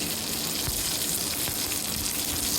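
Curry leaves and dried red chillies hit hot oil with mustard seeds and urad dal for a chutney tempering, giving a steady, loud, crackling sizzle with no talk.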